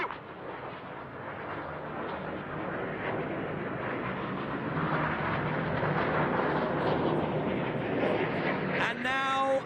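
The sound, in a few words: aerobatic display jets flying past at high speed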